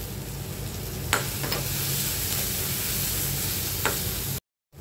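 Cashews and paste sauté in a pan for rava kichadi, a continuous close sizzle broken by a few sharp scrapes of a stirring spoon before it cuts off.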